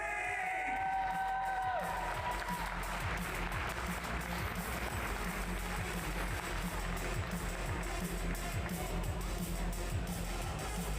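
A crowd at the 2024 SBD British Open powerlifting championships cheers, whoops and applauds a newly crowned 52 kg champion, a dense, sustained roar of clapping and shouts filling the hall throughout.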